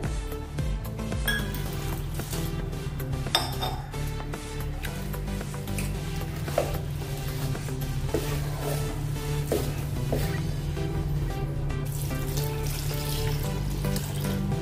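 Water pouring and splashing into a bowl of jowar flour and semolina batter in a home kitchen, a continuous trickling stream with small clinks of utensils, steady and close.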